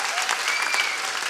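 Loud, dense audience applause fills a comedy show venue, brief and steady throughout with a faint crowd murmur underneath.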